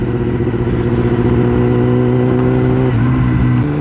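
A motorcycle engine drones steadily and loudly while riding on a road, its low harmonic tones holding a constant pitch with a slight shift near the end, no talk over it.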